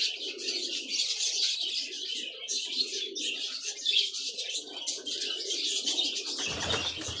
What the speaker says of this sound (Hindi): नस्ली कबूतर है जी